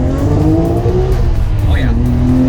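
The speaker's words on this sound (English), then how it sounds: "We'll give it a little first and second gear pull and see what I think." A Nissan Skyline GTR with raised boost pulls hard in first and second gear, its engine note climbing loud and steady with a brief tone drop at a shift, and faint talk underneath.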